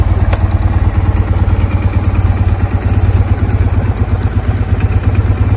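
A 1961 BMW R50 motorcycle engine idles close by in cold outdoor air, a loud, steady low-pitched thumping beat with a fast even rhythm that runs unbroken with no talk.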